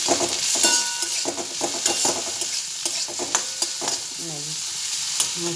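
Carrots and other vegetables fry in a pan for Maggi noodles, a loud close sizzle broken by repeated scraping stirs in an uneven rhythm, with no one speaking.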